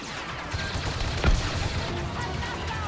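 Gunfire in the Star Wars Battlefront II video game: a dense, steady stream of blaster shots and battle noise runs throughout, with one sharper, louder impact near the middle.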